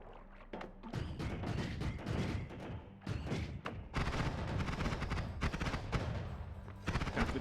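A sentry turret shooting in the Noita game, a dense run of quick, faint thumping shots and impacts that carry on with no pauses, and no voices.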